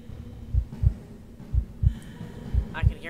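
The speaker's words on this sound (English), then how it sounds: "I can hear my heartbeat." A steady horror-game heartbeat in SCP-087 thumps in paired low beats, six thuds in three evenly spaced lub-dub pairs, over a dark humming ambience with a faint high wavering tone near the end.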